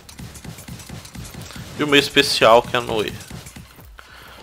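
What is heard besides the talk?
horse mount galloping in the video game Paladins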